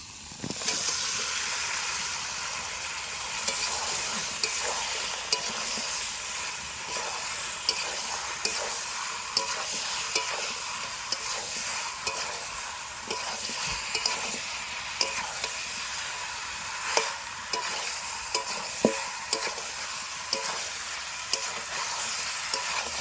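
Boiled meat and potatoes stirred into fried masala, cooked the village way, a continuous close sizzle and hiss with repeated scraping stirs and small clanks of the utensil throughout, no talking.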